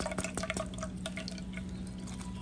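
Lemon juice drips and trickles through a sifter into a container in a kitchen, a quick cluster of close, wet drips followed by a softer steady patter.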